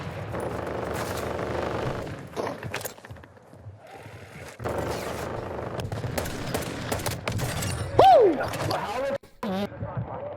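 Gunfire bursts from the video game Warzone 2, rapid and loud, mixed with game effects and players talking over the action.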